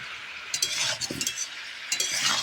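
Spoon stirring vegetables and spices into frying chicken in a pan, a few short scraping strokes and soft clinks over a faint sizzle, no talk.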